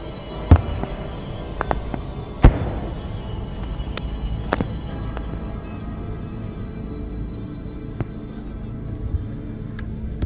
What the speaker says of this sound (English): what we think may be U.S. airstrikes also in the distance